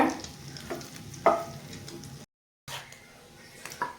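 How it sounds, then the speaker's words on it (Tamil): Quail eggs coated with turmeric frying in hot oil, with a steady soft sizzle, a few sharp clicks of a utensil, and a brief drop to silence midway before the sizzle returns. "முட்டைக்கு மஞ்சத்தூள் போட்டு அந்த வாடை கவுச்சு வாடை வராமல் இருக்கிறதுக்கு கொஞ்சம் நேரம் நம்ம ஃப்ரை பண்ணி எடுத்துக்கணுங்க"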